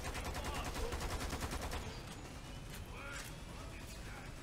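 Gunfire from the video game Lost Planet 2, a rapid rattling burst of automatic shots that fades into scattered game sounds, with people talking over it.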